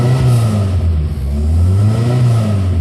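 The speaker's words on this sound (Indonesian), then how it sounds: "Coba kita gas-gas. Dia RPM-nya tuh sampai berapa sih si Toyota Corolla DX ini?" Toyota Corolla DX with a replaced exhaust, 39 years old, revved hard: a loud, close, steady engine roar holding high revs with slight rises and dips in pitch, with no talk.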